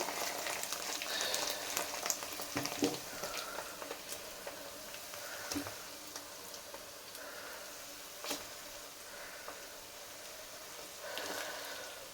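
Rohu fish pieces coated with salt, chili and turmeric fry in a pan, giving a soft, steady sizzle and bubbling with scattered faint ticks and pops, no voices.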